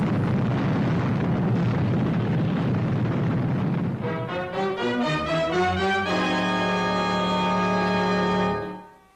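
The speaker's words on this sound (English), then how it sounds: "That's the 7th explosion, Commander Zero." A cartoon-style explosion from the Fireball XL5 episode: a long, loud roaring blast rumbles for about four seconds, then breaks into descending ringing tonal tones that sustain and cut off abruptly, with no talking.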